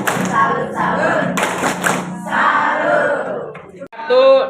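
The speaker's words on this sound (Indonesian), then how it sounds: "Tepuk salut, salut, salut, salut, salut," Group performs a tepuk salut clapping chant at a school workshop, loud rhythmic hand claps mixed with chanted voices and crowd shouts, ending with a burst of louder cheering.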